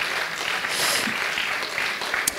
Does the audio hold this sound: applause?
yes